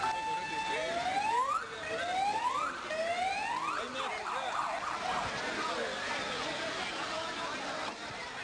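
Wailing emergency sirens from ambulances and Federal Police vehicles, several rising-and-falling tones overlapping loudly and continuously amid a noisy crowd scene with voices.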